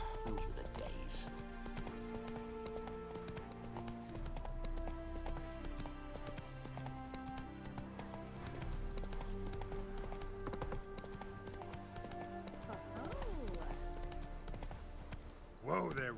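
Horse hooves clip-clop steadily at a walking pace in The Witcher video game, running continuously under layered game music with a snort or whinny near the end.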